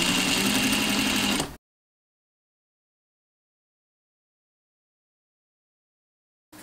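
A sewing machine stitching bias-cut cording around a neckline, a steady close mechanical whir for about a second and a half, then silence.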